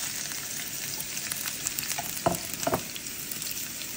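Cut garlic frying in oil in a pan for cauliflower fried rice, a dense continuous close sizzle with a couple of brief stirring scrapes and knocks, no voices.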